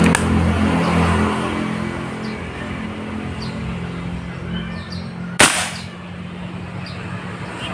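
A single sharp crack from a Yumaja Sempiternal air rifle rings out once, loud and close, over a steady outdoor background hum.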